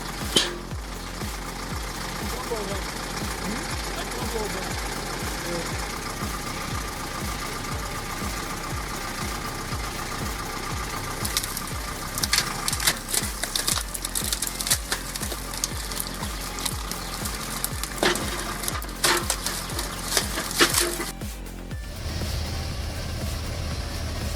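A rough homemade hydraulic log splitter built from scrap steel runs with a steady engine drone and rhythmic knocking, with clanking wood and metal sounds rising toward the end.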